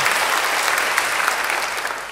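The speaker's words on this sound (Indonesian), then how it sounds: "Beri tepuk tangan yang baik buat dia." A church congregation claps together during an Indonesian worship service: a steady, dense wash of applause that holds evenly from start to finish with no voices over it.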